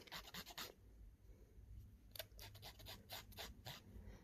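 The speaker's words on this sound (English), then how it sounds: "make sure that you don't scratch the top when you're filing" Short bursts of rasping filing along the edges of resin pendants, quick strokes back and forth, come in two clusters separated by a quiet pause, close and fairly soft.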